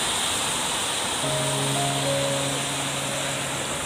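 Arabian Sea waves wash along Marine Drive in Mumbai on a rainy day, a continuous broad roar of surf with a low steady hum running beneath it, no voices.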